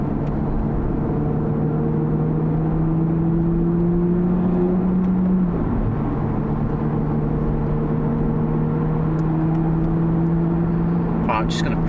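A V12 engine in an Aston Martin V12 Vantage S adapted with hand controls drones steadily while driving at low speed, a constant low hum with a brief dip in pitch midway, heard from inside the cabin with road noise.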